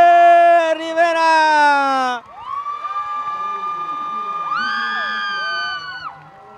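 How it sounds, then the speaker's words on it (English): Spectators at a boys' soccer match roar and cheer after the final whistle: a sustained, loud shout gives way to overlapping high, wavering cheers and whoops that fade at the end. "And hear the roar of the crowd."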